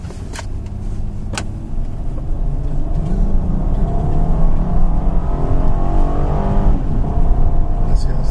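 A 2014 Honda Pilot AWD accelerates through its gears, its engine note rising steadily and loudly while a person talks over it.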